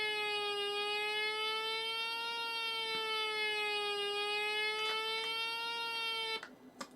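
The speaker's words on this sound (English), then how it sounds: "and the siren goes off again." A video game siren wails on a steady, slowly wavering electronic tone rich in overtones, sounding loud and continuous for several seconds before cutting off abruptly into a few short clicks.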